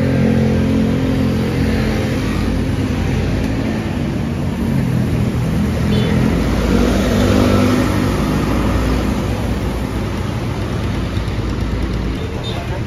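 A PO Unicorn intercity bus running the Jakarta–Jogja route rumbles steadily at the terminal, a loud, continuous engine drone with background voices mixed into the noise.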